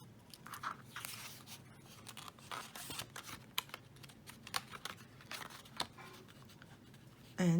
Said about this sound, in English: then you cut wedges like this